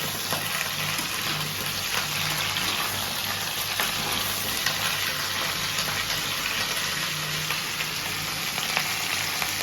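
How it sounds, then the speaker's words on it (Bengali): Cauliflower pieces frying in oil, a dense, even sizzle close by, with faint scrapes of stirring throughout and no voices. "এবার ফুলকপিগুলোর গায়ে যাতে তেলগুলো লেগে যায়, সেই জন্য নাড়াচাড়া করে দেওয়া হচ্ছে।"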